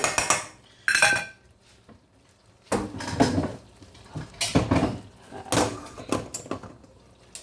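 Pots, pans and lids clatter while a hamburger steak dinner simmers at home, in several short, loud metal clanks and scrapes broken by brief pauses, close at hand.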